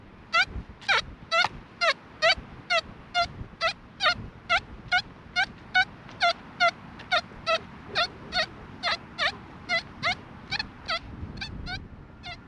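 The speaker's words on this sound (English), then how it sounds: "So this is our hoard signal." A metal detector sounding a hoard signal while hunting for deep treasure, a regular series of short, sharp warbling chirps repeating about twice a second for the whole stretch, close and clear over faint outdoor background.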